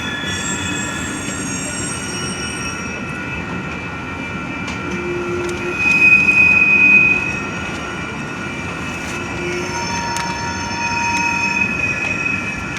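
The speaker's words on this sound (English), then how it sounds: "Pretty long train here." A long Union Pacific manifest freight train rolls past nearby, a steady rumble of cars with high squealing wheels and brief metallic screeches, swelling in the middle.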